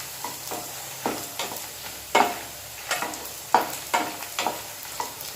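Garlic chutney with tamarind is stirred in a frying pan: about a dozen quick, scraping spoon strokes in an uneven rhythm over a soft, steady sizzle, close and with no talking.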